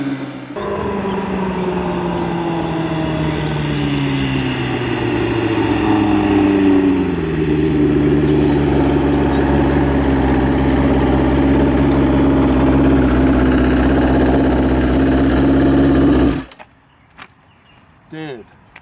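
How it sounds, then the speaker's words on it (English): A street-legal seven-second drag motorcycle engine, loud and close, running and revving with its pitch climbing and settling for about sixteen seconds before it cuts off abruptly, followed by a few faint knocks. "I really love this motorcycle. It's my favorite bike."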